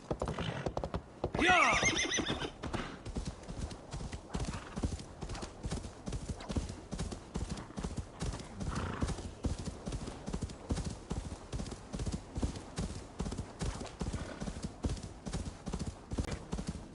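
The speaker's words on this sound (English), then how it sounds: "I get my own horse." A horse in Assassin's Creed Valhalla trots with a steady, close clip-clop of hooves throughout, and a loud whinny rises near the start.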